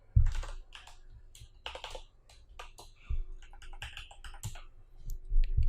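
Keyboard keys tapped in quick irregular bursts while writing JavaScript code on a computer, close and fairly quiet, with short pauses between runs of clicks and no talk.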